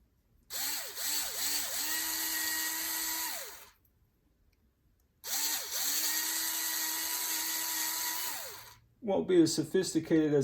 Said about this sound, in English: do that one more time, man, with a little bit bigger drill bit